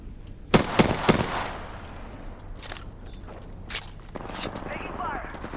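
Apex Legends gunfire: a few sharp close bursts early on, then scattered fainter shots and footsteps, with a voice speaking over parts of it.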